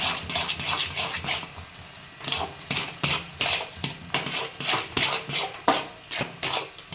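A spoon scraping and clanking rapidly against a metal pot while semolina upma is stirred, producing quick, rhythmic bursts of metallic scraping with short pauses, close and fairly quiet.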